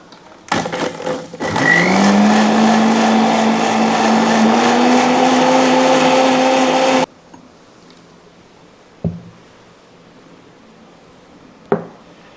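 A kitchen blender whirs a liver juice: the motor spins up loud with a rising whine, runs steadily for about six seconds, then cuts off, followed by a couple of faint clicks.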